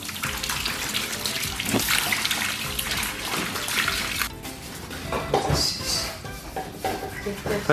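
Sheep offal is washed under running water, a steady gush from a tap with splashing and handling that shifts midway, fairly close and without speech.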